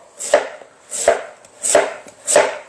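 Knife chopping ingredients on a board for Jeju-style bean soup, cutting into thick strips: four evenly spaced, crisp chops close by, with no talking.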